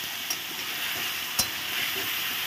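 Sesame and chili paste masala sautéing in a pan, a steady close sizzle with occasional stirring scrapes and small spatters, no voices.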